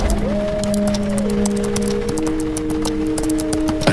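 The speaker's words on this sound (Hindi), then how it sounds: "तेज बारिश हो रही है, बिजली भी कड़क रही है।" Steady heavy rain hisses throughout, with sustained musical tones droning over it and no voices.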